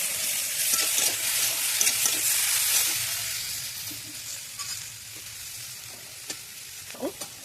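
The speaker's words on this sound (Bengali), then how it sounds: "এবার আমি দিয়ে দিচ্ছি বন্ধুরা এই জিরে মরিচ বাটা।" Cumin-chilli paste added to a frying rohu fish curry with peas, giving a steady close sizzle with stirring scrapes and a few utensil clicks, loud at first and then settling slightly quieter.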